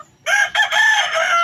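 A rooster crows once, loud and close, in a long, wavering call with a brief cluck before it, among the dogs and chickens of a gamefowl yard.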